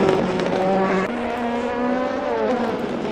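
Race cars in a video game race roar across the finish line, a loud whine of engines shifting pitch as they pass, with no talking.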